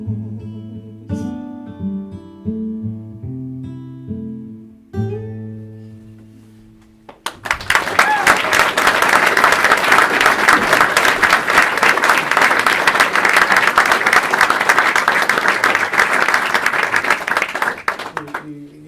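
A song's last melodic notes fade out, then a live audience bursts into loud, sustained applause that carries on steadily for over ten seconds.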